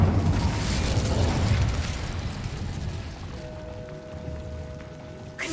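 An Incendio fire spell cast in the game Hogwarts Legacy, a loud whooshing fiery burst that roars at the start, then fades into a softer crackling tail with faint tonal ringing near the end.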